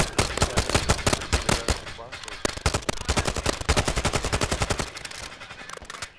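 Rapid automatic gunfire in Call of Duty Resurgence, loud and close, bursts of fast shots running almost without pause, with a brief lull near the end.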